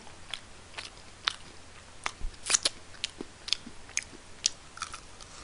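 Crunchy bites and chewing of Nene Snowing fried chicken, close up in a mukbang, with irregular crisp crackles repeating steadily and no talking.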